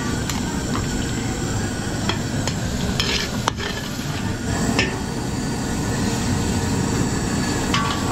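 Garlic toasting in a pan for a catering batch, a continuous close sizzle with scattered clicks and scrapes of stirring against the metal.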